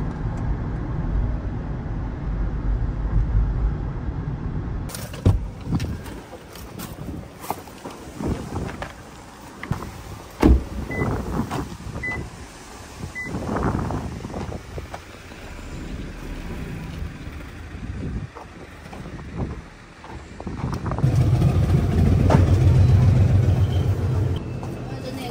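A car's engine idles just after starting, with the air conditioning running on a hot day at a car showroom. A low rumble swells near the end amid wind buffeting and handling noises.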